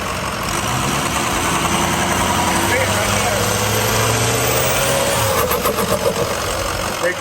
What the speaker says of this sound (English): Big time exhaust leak,